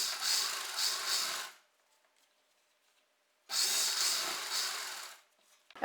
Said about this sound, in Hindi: आप इलास्टिक को खींचते जाइए और सिलाई लगाते जाइए